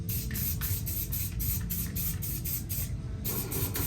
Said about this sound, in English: I'm going to bring in glue spray.